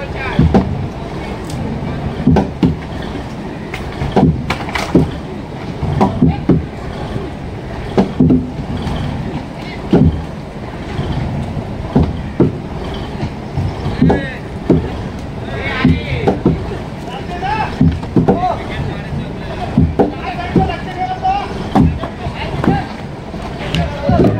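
A fishing boat moves across the water at Bankot, with steady splashing and sloshing, rhythmic knocks, and wind buffeting the microphone, while people talk over it throughout.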